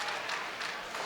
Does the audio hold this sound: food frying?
no